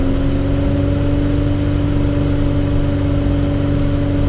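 A steady, loud engine hum from an Infiniti G35 / Nissan 350Z held at about 3,000 RPM during a radiator coolant bleed, droning evenly without change in pitch, no voices.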